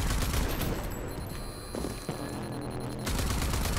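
Automated killer turret in Rage 2 firing a sustained burst of rapid gunfire, loud and dense for several seconds with a brief lull partway through.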